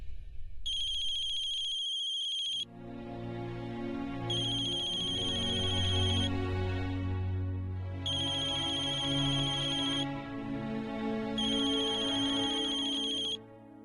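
A phone ringtone rings in four regular repeated bursts, loud and close, over a steady low background hum, with no talk during the ringing.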